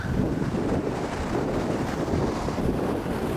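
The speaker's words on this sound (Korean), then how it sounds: "와 진짜 바람 많이 분다" Strong typhoon wind buffeting the microphone beside a river on a fly-fishing trip, a continuous loud rumbling gust noise with no voices.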